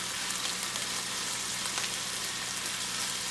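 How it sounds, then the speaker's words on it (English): Chunks of stew meat for an Irish Guinness stew brown in hot frying oil with a loud, steady, close sizzle that runs unbroken throughout, and no talking. "try to turn it around so that you're getting all the sides browned up"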